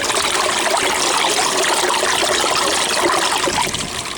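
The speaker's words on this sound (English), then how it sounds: "this by far is the noisiest way to run an overflow" Water rushing through a noisy aquarium overflow box, recorded close up inside the box, gives a loud, steady splashing and trickling roar with no break.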